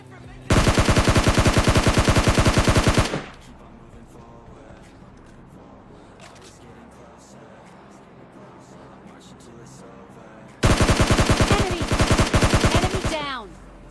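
Automatic gunfire in the PUBG Lite battle royale game: two long, loud, rapid bursts of shots, each several seconds, separated by a quieter stretch of game ambience, with some whooshing noise trailing the second burst.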